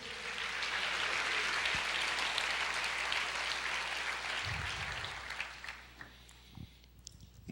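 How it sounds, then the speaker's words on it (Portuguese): A church congregation applauds together, a dense sustained wash of clapping that slowly thins and fades toward the end, leaving a few scattered claps. "Você pode aplaudir o Senhor, dizer eu creio"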